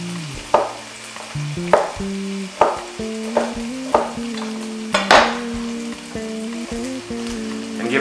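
Chopped garlic and onion frying in a pan while being stirred, a low sizzle punctuated by about eight regular scraping strokes of a utensil, close up with no talking.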